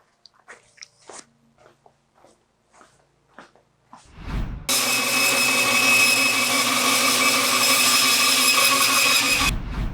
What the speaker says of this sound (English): So first thing, I'm going to cut it right there on the bandsaw